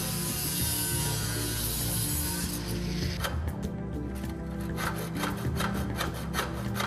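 A saw cuts through a composite cable tray with steady, close rasping that turns into distinct back-and-forth strokes partway through.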